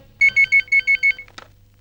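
A telephone rings with six quick electronic trill bursts in an even rhythm, loud and close, then stops with a short click as if the receiver is picked up.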